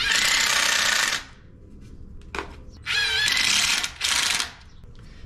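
A power driver drives 2.5-inch screws into wood while a box truck camper bed frame is built, with two loud, sustained whirring bursts separated by a short clunk and a brief pause.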